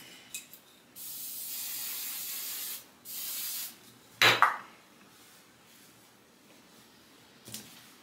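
Two long hissing sprays from a perfume atomizer, close by, followed by a sharp clack and a soft knock in a quiet room.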